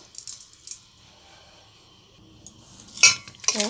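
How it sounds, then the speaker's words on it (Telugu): Mutton pieces are mixed with ginger garlic paste, turmeric and salt in a metal vessel for an old-style mutton curry. Faint soft stirring ends in a few sharp, close metallic clinks of the utensil against the pot. "మంచిగా కలిపి పెట్టేసుకుందాం ముక్కలకు"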